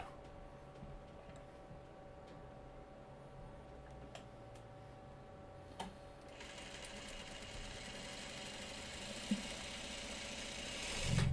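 A sewing machine stitches a small quilt block seam, quiet at first with a few faint clicks, then whirring into a steady, fast mechanical buzz that runs close by and grows slightly louder toward the end.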